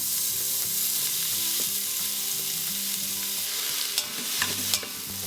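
Onion slices and dried bay leaves frying in hot oil or ghee, a loud continuous sizzle with a low hum beneath and sharper crackles and clinks toward the end.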